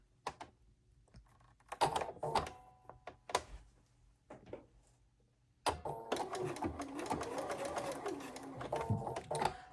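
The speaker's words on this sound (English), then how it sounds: "You're going to sew and follow the lines." Sewing machine stitching through paper piecing along printed lines, first a few short quiet bursts and taps, then a steady rapid run that continues to the end.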